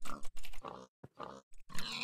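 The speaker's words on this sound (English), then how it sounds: "Oh, let's kill a pig." Pig in the video game Minecraft grunting in several short, rough bursts with brief gaps between them, close and moderately loud with no talk over it.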